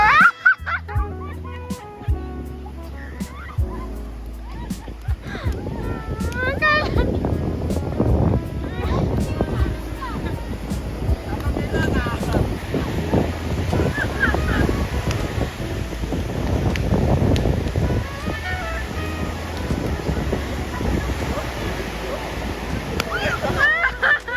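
Strong gusty wind buffets the microphone at a beach in Mersing, a continuous loud roar with splashy water sounds, while people talk over it throughout.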